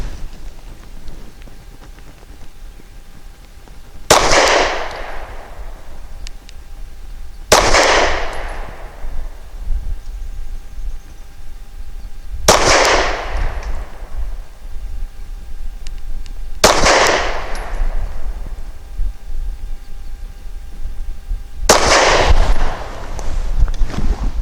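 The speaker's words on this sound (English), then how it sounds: "Five shots from 7 yards with the Norma Hexagon 124 grain" Five sharp gunshots from a custom Glock G43 pistol firing Norma Hexagon 124 grain ammunition at 7 yards, loud cracks spaced about four seconds apart with a decaying tail after each, over a low steady background hiss.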